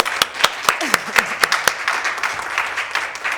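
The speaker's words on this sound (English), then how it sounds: "Can we give them a round of applause?" A small in-person workshop audience claps in a sparse, uneven round of applause, close and moderately loud, thinning out after a few seconds.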